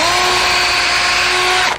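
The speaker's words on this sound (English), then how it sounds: "I've got an 1/8" bit, and I'm going in the dado." An 1/8 inch bit drilling into wood in a dado for a hanging cupboard, a steady high-pitched whine from the power drill running close and loud throughout, then cutting off abruptly at the end.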